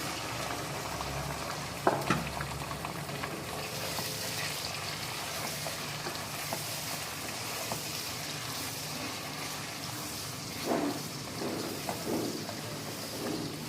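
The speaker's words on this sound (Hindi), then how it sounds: "चिकन को भी फ्राई कर लेंगे इसके साथ सही से" Chicken pieces frying with browned onions in a pan for tinday gosht, giving a steady bubbling sizzle throughout with a few stirring knocks near the start and toward the end.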